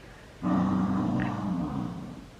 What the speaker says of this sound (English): Are you growling at your own arm?